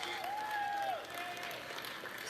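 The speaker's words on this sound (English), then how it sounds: "They seem to be clapping in unison." An audience in the chamber of the US Congress claps after a Netanyahu address, a dense wash of applause heard over a voice talking on top.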